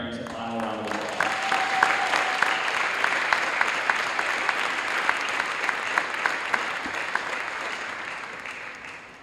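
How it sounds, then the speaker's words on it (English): Applause from a high school volleyball crowd on senior night, honoring the senior players and their parents in a gym, a steady loud clapping that swells after a short lead-in and holds for several seconds. "Let's give these ladies and their parents a final round of applause."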